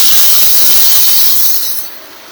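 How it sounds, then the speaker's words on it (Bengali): Tomato puree added to a pan of fried, browned onions sets off a loud, steady steamy sizzle that holds for nearly two seconds and then drops away sharply. "এতে আমি টমেটো পিউরিটা দিয়ে দেবো"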